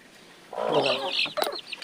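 A chicken clucks up close in a short burst of throaty calls, followed by a few sharper, higher notes.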